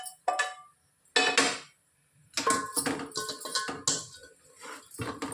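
Fried soybean pieces stirred in a metal pot for biryani, with sharp clinks and scrapes of a spoon coming in irregular bursts, close by, with short gaps between strokes.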